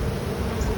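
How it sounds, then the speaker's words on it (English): A honey bee buzzes steadily and close throughout, with the low drone of a busy colony during a September hive inspection where a large drone bee is near. "Whoa, that's a big bee right there. It must be a drone."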